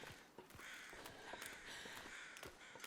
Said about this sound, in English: I thought those birds cawing was a wolf growling